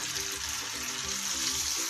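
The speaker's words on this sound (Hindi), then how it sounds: "मैं इसकी ग्रेवी बनाऊंगी तो मैं ज़्यादा पानी डाल रही हूँ इसमें।" Water is poured steadily into beef kofta curry gravy in a cooking pot, giving a continuous, even splashing rush with no talking.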